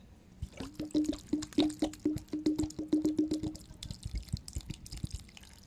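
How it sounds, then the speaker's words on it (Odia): Water poured into a plate of cooked rice, a rapid train of drips and splashes with a gurgling liquid tone for about three seconds, then scattered softer drops, close and clear. "ଆଜି ଆମେ ଭାତରେ ପାଣି ପୁରେଇକି ଖାଇବା"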